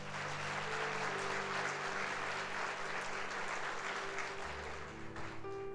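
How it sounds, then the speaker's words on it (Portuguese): A church congregation at a Portuguese-language Sunday Pentecost service claps together in a dense, continuous roll. Soft sustained musical tones hum underneath, and the applause holds steady at moderate volume. "Dê um aplauso a Jesus"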